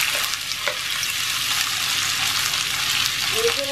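Potatoes being mixed in a frying pan with onion and spices for an aloo katli curry make a loud, steady sizzle with soft stirring scrapes on top, close and continuous from start to finish.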